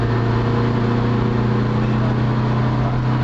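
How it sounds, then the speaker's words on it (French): Renault R8 Gordini engine droning steadily while driving, a loud close in-car hum with a constant low tone, no pauses. "vous risquez de plus nous entendre, les amis, par contre, parce que le bruit, le moteur"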